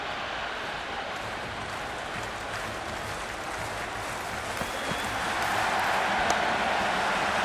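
Stadium crowd noise from the Cricket 26 video game during an India vs Pakistan T20 World Cup match: a dense, steady roar of distant cheering that swells slightly louder toward the end, with no voice over it.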